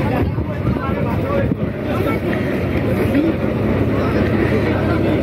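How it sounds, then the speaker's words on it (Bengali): A motorboat engine drones steadily as the boat pulls away on a short trip near Kolkata, a continuous low rumble mixed with wind buffeting the microphone throughout. "আমাদের বোট আস্তে আস্তে ছেড়েও দিল"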